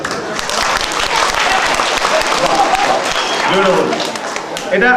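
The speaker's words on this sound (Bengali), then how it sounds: "দেখি কিরকম একটা হোক হাততালি" An audience at a drama performance claps together in sustained, dense applause, loud and close throughout, with voices talking underneath.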